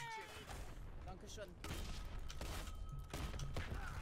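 Gunfire in the online shooter Dirty Bomb, a steady stream of shots and impacts running throughout, growing louder and denser after the first second and a half, with players talking over it.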